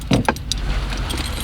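A car key is pulled from the ignition of a Nissan Xterra, giving a couple of quick metallic jangles up close, followed by faint background hum.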